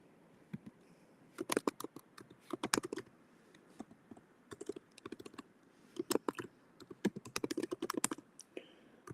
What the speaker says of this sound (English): That's going to be too much to type in, but let's try.